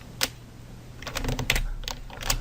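Keys clatter on a computer keyboard during spreadsheet work, a lone tap followed by a quick burst of several close, crisp keystrokes.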